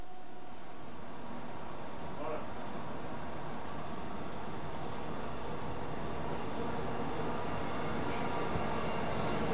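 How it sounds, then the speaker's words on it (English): Train rumbling overhead above an old railway tunnel near Helensburgh, a steady broadband roar filling the whole stretch at constant level, heard from inside the tunnel below. "Train coming, quick!"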